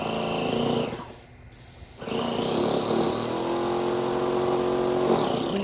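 Wagner paint sprayer loaded with sealer runs dry, its steady motor hum breaking into a rough, sputtering drone with one brief dip partway through.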